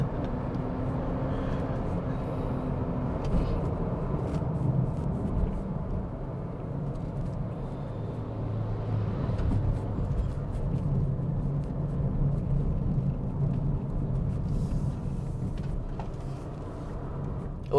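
A Renault Zoe electric car climbs a hill road with a steady, quiet road and tyre hum inside the cabin, continuous and even throughout with no engine note.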